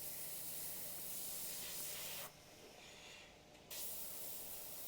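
Close, airy hiss of an airbrush spraying paint onto a small 25 by 25 centimetre sea turtle canvas. It sprays steadily, briefly cuts to a softer hiss, then comes back at full strength, with no talking.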